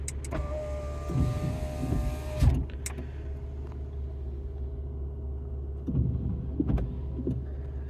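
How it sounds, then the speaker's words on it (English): Electric power windows on a three-door Fiat Lounge Dualogic whine steadily for a couple of seconds, then stop with a thunk and run again briefly later. A low engine idle rumble continues underneath throughout, with no talking. "you've got your manual air conditioning unit, your electric power windows"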